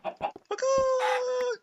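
Chicken clucking in the video game Minecraft, a few short clucks followed by a long sustained squawk, loud and close with no talk over it.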